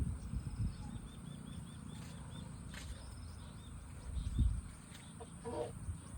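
Chickens cluck faintly at a distance on a small farm amid rustling background noise, with a few soft chirps here and there.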